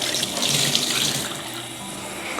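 Water pours from a tap into a sink, a loud steady hiss of running water filling the whole stretch with no talk.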